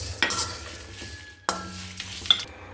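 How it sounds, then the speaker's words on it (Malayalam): Pepper, cumin and spices being stirred in a dry pan, with a few sharp scrapes and clinks of a utensil against the metal over a faint background hum. "നല്ലൊന്ന് ഇളക്കി കൊടുക്കാം."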